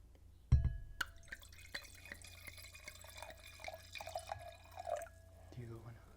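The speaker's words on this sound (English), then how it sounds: "ASMR pour number one." White wine is poured into a glass close up, giving a soft trickling, dripping liquid sound that rises and falls over several seconds, quiet and intimate.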